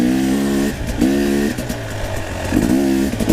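A 2017 KTM 250 XC two-stroke motorcycle fitted with a JD jetting kit burbles at low RPM with a few short blips of throttle, close by and loud, with no voices.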